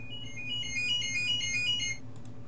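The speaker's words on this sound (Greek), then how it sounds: "Συγγνώμη για το τηλέφωνο." A phone ringtone plays a bright, repeating electronic melody for about two seconds over a low steady hum, then cuts off.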